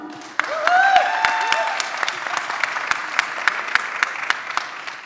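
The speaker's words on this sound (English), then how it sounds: "give me the loudest round of applause you have the entire day" Audience at a business summit breaks into a loud round of applause on cue, dense clapping swelling quickly and holding steady for several seconds, with a few whoops and a voice briefly heard over it.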